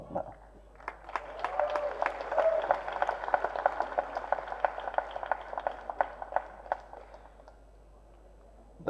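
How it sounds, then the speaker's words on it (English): An audience applauds with a thin, crackling patter of many hands that swells, holds steady, then tapers off into quiet. "That's an applause that's coming to him decades later"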